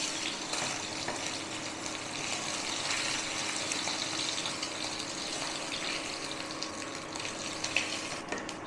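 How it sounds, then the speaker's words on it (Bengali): Bhetki fish frying in hot oil, a steady, even hiss and crackle continuing close and unbroken with no talk over it. "ভালো করে ভেজে নিয়েছি।"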